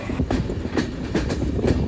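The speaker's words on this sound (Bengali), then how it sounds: "আমাদের ট্রেন এখন প্রবেশ করতেছে রাজবাড়ি স্টেশনে" A passenger train coming into Rajbari station makes a loud, close, continuous rumble. Regular clickety-clack beats from the wheels crossing rail joints run through it.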